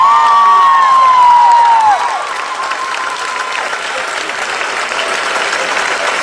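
A crowd at the Bologna Pride 2016 committee presentation applauds, with a loud burst of clapping and a few whoops, a sustained tone sounding at the start before the applause settles into a steady wash.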